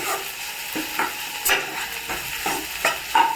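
Curry leaves sizzling and frying in a pan of tomato curry, with repeated stirring strokes and crackling bursts close up, no voices.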